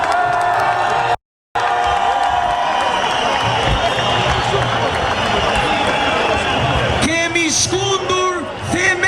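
Dense protest crowd noise at a nationwide anti-corruption demonstration, loud and continuous, with cheering and scattered clapping, a brief cut near the start and whoops and shouts swelling toward the end.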